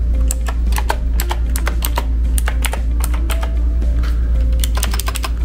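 Rapid typing on a Marvo Scorpion KG965G mechanical gaming keyboard gives dense, irregular clacky keystrokes close up over a steady low background hum, with no speech.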